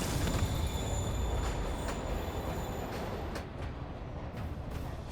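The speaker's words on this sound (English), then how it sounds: "Train moving. Lee's getting away." A train in the Marvel's Spider-Man video game rumbles loudly along the tracks, with high metallic wheel squeal in its first half, then thins as it passes. No one speaks.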